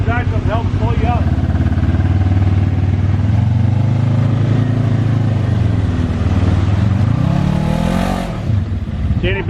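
Polaris RZR side-by-side engine roaring and revving loudly as it climbs a creek bed, a sustained close drone with rising and falling pitch and a clatter near the end, voices talking over it.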